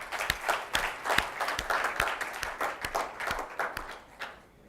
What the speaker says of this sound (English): they can still hear a big applause from all of us